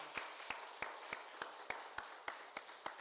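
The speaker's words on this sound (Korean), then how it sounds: "그렇게 해주실 우리 하나님께 박수로 감사드리겠습니다" A church congregation claps in a slow, steady unison rhythm during a Sunday worship service, with about ten evenly spaced, distinct claps and no talking.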